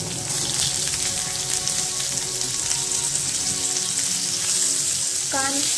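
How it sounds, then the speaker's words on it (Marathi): Chopped onion fries in a curry-leaf and garlic tempering in hot oil, a steady close sizzle throughout with faint stirring. "कांदा छान गोल्डन कलर येईपर्यंत परतून घ्यायचा।"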